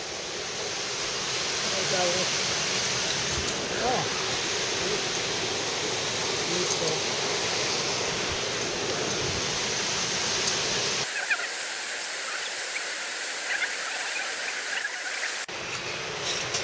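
Waterfall in Kandersteg, a loud, steady broadband roar of falling water that fills the scene and drops away abruptly near the end, with brief talk in the background.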